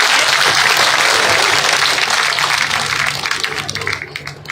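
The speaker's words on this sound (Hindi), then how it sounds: "एक बार तालियों के साथ लड़के का उत्साह बढ़ा दीजिए।" At a village political rally, a crowd claps to cheer on a boy: loud, dense applause from many hands, sustained and close, tapering somewhat toward the end.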